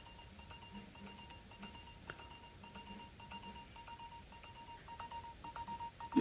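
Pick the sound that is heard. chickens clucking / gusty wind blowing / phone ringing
phone ringing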